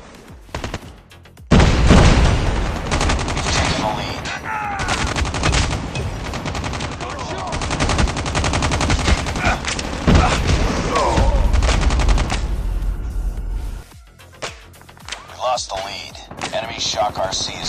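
A grenade bursts and gunfire erupts in a first-person shooter's Kill Confirmed mode, loud dense automatic fire and booms sustained for about ten seconds, then quieter scattered shots with game voices.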